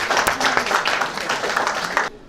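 Audience members at a Sikkim school quiz applaud a team's score, with brisk, dense clapping lasting about two seconds before it stops abruptly.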